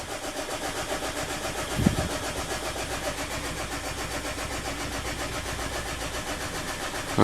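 A Mazda engine cranks over steadily with a dense, continuous churning drone for several seconds, a brief louder catch near the start and another at the very end, never settling into a running idle; no one speaks.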